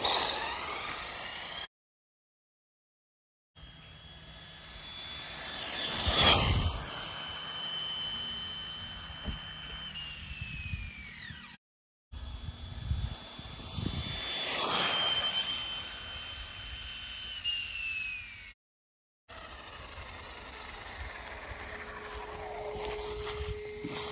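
A vintage Losi LXT RC car on a 5400 kv brushless motor screams past in high-pitched whining passes that rise and fall as it nears and recedes, separated by brief silent gaps, with no talk.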